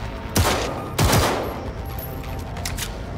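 A gun fires in the video game Cyberpunk 2077 with two sharp, loud bursts about half a second apart. A quieter rumbling background follows, with a few faint later cracks.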